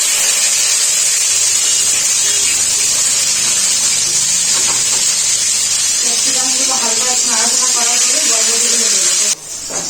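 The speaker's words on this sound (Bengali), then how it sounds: "ওই আলু ভাজা তেলেই ক্যাপসিকাম গুলো দিয়ে দেবো" Capsicum frying in a wok with oil left over from frying potatoes: a loud continuous hiss with steamy spitting, while a person talks over it in the second half.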